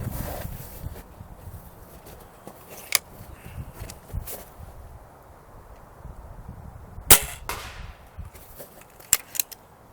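A Crosman Phantom .22 pellet gun fires a polymer-tipped pellet, a single sharp crack standing out near and loud against quiet background noise, with a few fainter clicks and knocks around it.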